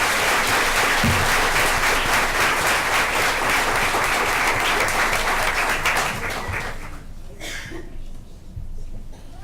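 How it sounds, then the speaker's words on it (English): Loud, sustained applause fills a school board meeting room as the audience honors students, a dense roar of clapping hands that holds for several seconds before dropping to scattered claps and fading out. "have another round of applause for these great students"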